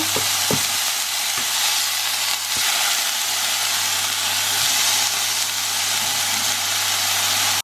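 Rice warms in a pan with a little oil, a steady close frying hiss with a low hum underneath and occasional sharp clicks of a utensil against the pan.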